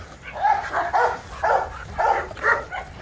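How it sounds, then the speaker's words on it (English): A big male dog barks repeatedly at close range, about five or six loud, evenly spaced barks in rapid rhythm with no talking. "So the male dog comes in."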